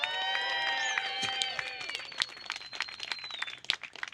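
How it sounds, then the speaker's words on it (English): Rally crowd at a #ForceTheVote march claps and cheers, with sustained whoops and shouts at first, then thinning into scattered claps further off. "Everyone give Lee a big round of applause."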